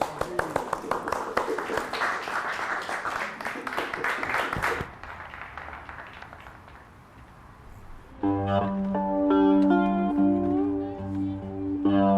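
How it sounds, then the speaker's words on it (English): Group applause from people who have just made their own cigar box instruments, sharp, close claps for several seconds that fade, then give way to music. "Give yourself a round of applause"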